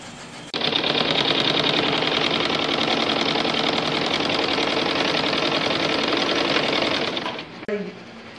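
A sewing machine stitches a dress sleeve and side seam in one long, steady run of fast, even mechanical whirring. It is close and loud, starts abruptly, then slows and stops near the end.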